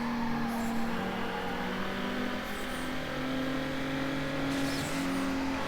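Car engines drone steadily in Need for Speed Underground racing, a sustained, even engine hum with shifting pitch and no pauses, heard without talk.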